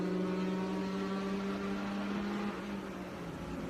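A Nissan-engined race car at a Trans Am SpeedTour road-course event holds a steady, droning engine note, then the pitch drops slightly as it passes at moderate distance, heard alone without voices.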